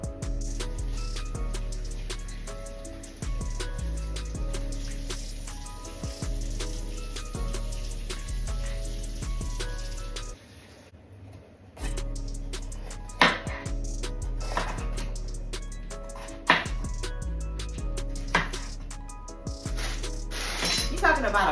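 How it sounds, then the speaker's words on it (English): Repeated clinks and clatter of washing and chopping vegetables, with knife taps, dishes and a brief rush of water, close by and busy throughout. "You guys are gonna see me washing these veggies, chopping them up, and I'm tossing them in this bowl."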